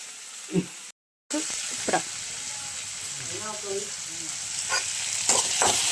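Onions sautéing in a pan for a Kerala-style mushroom curry give a steady close sizzle with occasional stirring scrapes, broken by a brief silent gap near the start.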